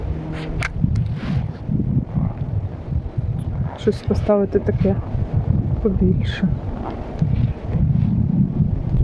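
Steady wind noise buffets the microphone throughout on a river while fishing, a low rumbling roar beneath a man's speech.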